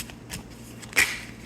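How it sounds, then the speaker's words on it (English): Tarot cards being shuffled in the hands, a soft papery riffle with light crackling and a sharper snap near the end, close and alone with no talk. "I decided to shuffle and just get one"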